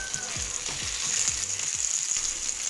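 Fish frying in hot oil with crushed garlic added, a steady close sizzle with soft scraping stirs and clicks running throughout, no talking.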